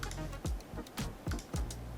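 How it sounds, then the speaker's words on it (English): A computer keyboard is typed on in a quick, uneven run of close, crisp key clicks and thumps, about a half-dozen strokes in two seconds. "Alright, typing again, talking, typing."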